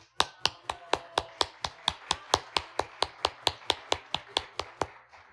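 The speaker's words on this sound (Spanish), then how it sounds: "den un aplauso a Kevin" A church congregation claps for a man arriving at a service, about twenty sharp claps in a fairly even rhythm, close and moderately loud, with no voices over them.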